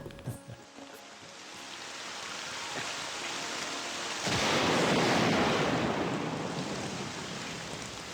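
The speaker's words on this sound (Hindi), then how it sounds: "बिजली जोरों से कड़क रही है।" Steady heavy rain hiss fills the air, with a low rumble of thunder swelling partway through and the downpour growing louder after it.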